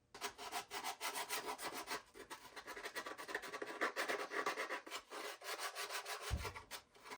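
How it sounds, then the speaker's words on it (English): Sandpaper rubbing back and forth over the trimmed edges of stormtrooper costume armor, a rapid rhythmic rasping stroke pattern, close and steady for several seconds before a brief pause and a soft bump. "we're going to clean all these edges up with some sandpaper"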